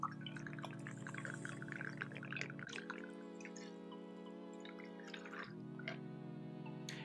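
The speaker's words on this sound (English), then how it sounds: "you're going to pour 2 ounces of Blanco or silver tequila" Blanco tequila poured into a Collins glass over ice, a steady close liquid stream with rising pitch as the glass fills, interrupted by two brief pauses, no talking.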